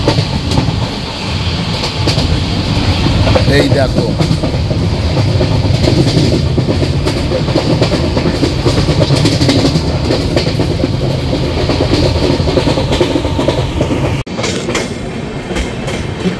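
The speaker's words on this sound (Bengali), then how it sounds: "আর তার সাথে তোমাদেরকে ট্রেনের স্পিডটাও দেখিয়ে দিই।" A moving passenger train rattles and clatters loudly along the tracks, heard from inside a coach with continuous rumbling and rhythmic wheel clicks, briefly dipping near the end; someone speaks a few words early on.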